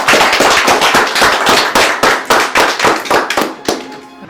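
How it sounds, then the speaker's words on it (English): A small group of players applauds in sharp, loud, rhythmic bursts of clapping, close by and steady, tapering off at the end. "So again, a big round of applause for that."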